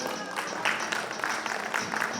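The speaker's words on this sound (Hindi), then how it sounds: "अभिनंदन करेंगे सभी जोरदार तालियों से" Audience clapping at a National Youth Day stage event at the Maha Kumbh in Prayagraj, a steady dense patter of many hands, moderately close and without talk.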